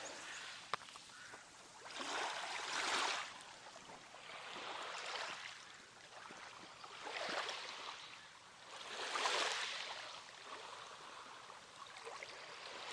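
Gentle waves lapping at Finnerty Cove beach, faint washes of water rising and falling in slow, repeated surges, heard alone without talk.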